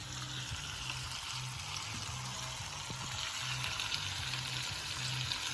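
Cacio e pepe pasta cooks in a buttery pan, giving a soft, steady sizzle and bubbling hiss at moderate distance, continuous and without talk.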